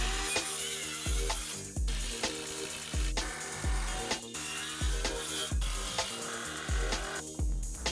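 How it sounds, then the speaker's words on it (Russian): Wooden boards of 150x50 and 100x50 leftover construction timber being cut for an insulated well housing, a steady rhythm of repeated close sawing strokes, each stroke rasping loudly before a brief pause. "Что-то размечаю, что-то пилю и что-то прикручиваю."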